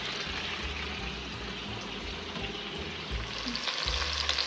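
Chicken roast with tomatoes frying in a pan, a steady dense sizzle that runs unbroken and close, with soft stirring scrapes and rising crackle toward the end; no one speaks.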